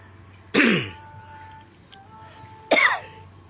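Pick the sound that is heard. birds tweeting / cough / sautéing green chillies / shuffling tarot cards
cough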